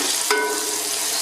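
Tomatoes being stirred into frying garlic okra in a pan, a single scrape near the start over a steady close hiss of sizzling oil.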